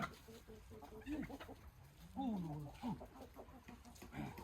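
A chicken clucks and squawks several times nearby, short throaty calls scattered over a faint background hum.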